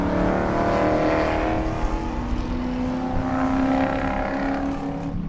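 Race cars at Sebring on a cool-down lap, a steady engine drone with held tonal harmonics that swells and fades slightly, heard at moderate distance with no talking.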